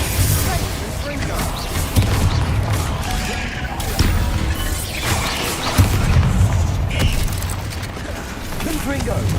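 Combat spells blasting in the video game Hogwarts Legacy: a dense, loud stream of booms, crashes and clattering impacts with a few sharper hits, with voices shouting among the explosions throughout.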